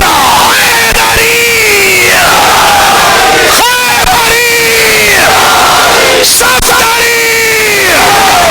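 A crowd at a majlis gathering roars back the slogan Naara-e-Haidari, three sustained massed shouts each rising and then holding as one voice, loud and close, with a leader's call sounding between them.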